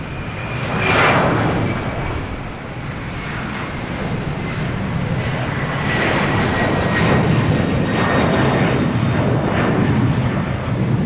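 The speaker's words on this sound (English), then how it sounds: "next taking off is Iceland Air heading to Keflavik" Icelandair jet airliner taking off at Boston Logan Airport, bound for Keflavik: a loud, steady broadband engine roar holds throughout, with a thin high whine running over it.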